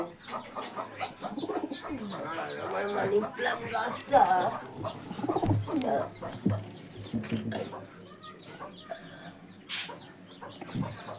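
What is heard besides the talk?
pigeon cooing at window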